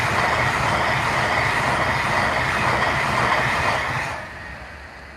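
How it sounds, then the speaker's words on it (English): A Pendolino train passes close by, a loud steady rush of wheels and rail noise that holds for about four seconds and then drops away as it moves off, with no talking. "there's a Pendolino coming towards the camera"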